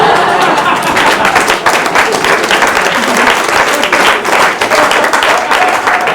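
Audience at a 1986 Barry Crimmins stand-up comedy show bursts into loud, sustained applause, a dense steady wash of clapping that holds for several seconds with no talk over it.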